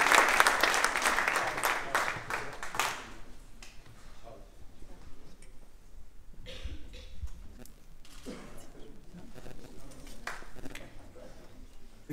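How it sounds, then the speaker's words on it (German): An audience applauds at a company award ceremony in Siegburg, loud clapping at the start that thins to scattered claps and fades over the following seconds. "Sie müssen schon so lange klatschen, bis der Geschäftsführer auf der Bühne ist"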